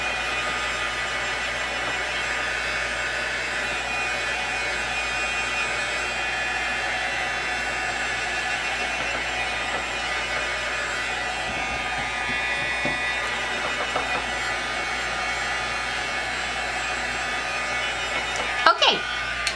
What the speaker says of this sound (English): to be using my embossing tool just to dry it